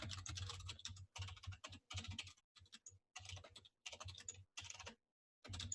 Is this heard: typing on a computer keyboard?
yes